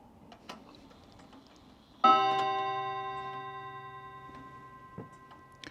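A grandfather clock in a quiet home strikes a loud bell chime that rings and slowly decays, with soft steady ticking continuing underneath throughout.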